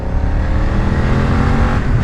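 A BMW F 900 R motorcycle engine pulls hard under steady acceleration, a loud, dense, continuous engine roar with a low rumble that holds unbroken throughout.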